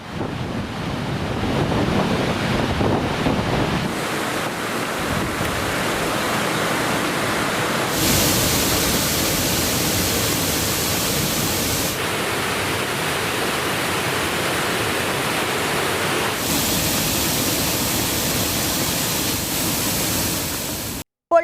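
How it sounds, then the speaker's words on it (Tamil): Water roars steadily down newly formed monsoon waterfalls in the Pandalur and Naduvattam hills, a loud, continuous rushing wash with gusty wind buffeting close by and no voices. "ஆங்காங்கே அருவிகளில் நீர் ஆர்ப்பரித்து கொட்டுகிறது"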